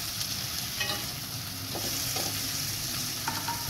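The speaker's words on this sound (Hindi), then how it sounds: "और अच्छे तरीके से इन सब की भुनाई कर लेनी है।" Tomato and vegetables for Chinese rice fry steadily in a pan, giving a close, even hiss of sizzling with a few soft clinks of stirring, and no voices.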